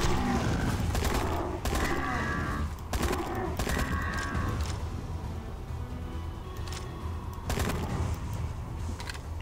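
Heavy gunfire from the video game Dino Hunter Deadly Shores, with dense, loud, rapid bursts of shots over a continuous rumbling game background and no voices.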